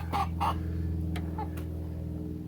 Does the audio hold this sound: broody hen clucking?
yes